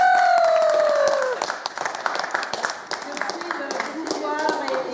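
An audience claps for a storyteller who has just told her first story, scattered applause with crowd murmur under a voice and a brief whistle or tone at the start.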